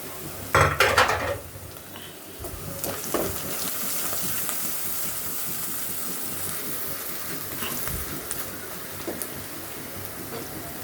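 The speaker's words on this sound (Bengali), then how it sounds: "পেঁয়াজগুলো ভাজা ভাজা হয়ে গেছে এখন দিয়ে দিচ্ছি গুঁড়ো মশলা" Onions and sliced green chillies fry in a pan with ground spices, giving a steady sizzle with clattering utensil scrapes and clinks, loudest in the first seconds and then settling into continuous frying.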